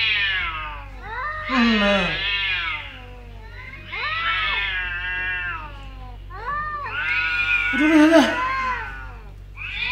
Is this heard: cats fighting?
yes